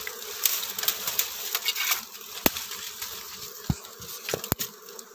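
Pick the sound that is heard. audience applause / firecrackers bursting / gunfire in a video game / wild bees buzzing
wild bees buzzing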